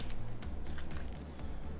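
The keyboard of a Nokia E50 phone is pushed out of its body shell, making a quick series of close, small plastic clicks and taps with soft handling noise between them.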